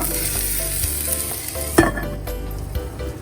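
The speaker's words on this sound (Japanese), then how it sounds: "フライパンが温まったらピーマンを入れます。" Green peppers sizzle loudly in hot rice oil in a frying pan, a dense continuous hiss with one sharp clink from the pan partway through.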